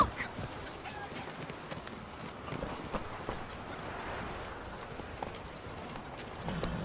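Roach, a horse in The Witcher 3, gallops along with soft, rapid hoof clip-clops over a continuous muffled ambient bed at moderate, fairly quiet level, no voices present.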